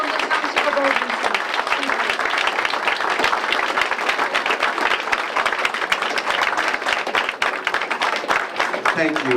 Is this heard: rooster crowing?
no